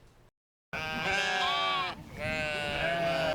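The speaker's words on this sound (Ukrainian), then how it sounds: "сотні овець та кіз, що туляться в маленькому загоні під палючим сонцем" Hundreds of sheep and goats crowd into a small pen under a scorching sun, bleating loudly and constantly in a dense, overlapping chorus. The sound starts after a brief silent gap.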